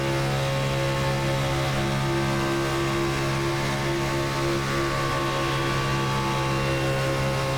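A NASCAR Xfinity race car engine in the iRacing game, heard from inside the cockpit at Daytona: a loud, steady, droning high-rev roar with strong tonal harmonics, held continuously without pause and with no talk over it.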